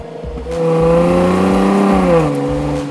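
A Jaguar XE S with a supercharged V6 revving hard, loud and close, its engine note climbing and holding in a sustained snarl, with brief choppy pulses before and after the main rev.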